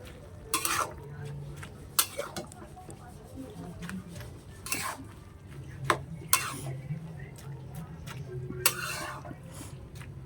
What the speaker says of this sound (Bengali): দেখতেই পাচ্ছ, এভাবে নাড়াচাড়া দিতে হবে।